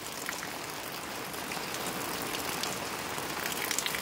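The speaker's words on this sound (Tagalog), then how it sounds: "Malakas ang dating ng ulan." Heavy rain pours steadily in a Philippine province, a dense, unbroken roar of drops hitting surfaces close by, with no voices.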